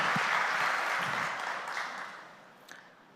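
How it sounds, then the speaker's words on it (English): A conference audience applauds as a speaker is welcomed on stage, full clapping that gradually thins and fades out toward the end. "let's welcome Taz on stage with a round of applause"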